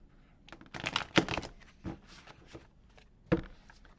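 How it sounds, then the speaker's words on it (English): A deck of tarot cards being shuffled during a reading, with soft riffling and papery flicks in a few short bursts separated by quiet gaps, close and faint. "Let me go ahead and give this a shuffle here."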